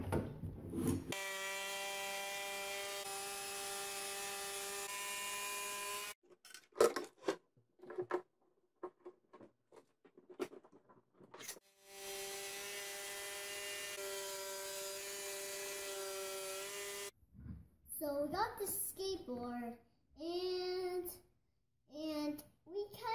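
A jigsaw cuts the rough shape of an uncut wooden skateboard blank deck clamped to a table edge, droning steadily in two long runs with a brief stop between, then giving way to a child and an adult talking.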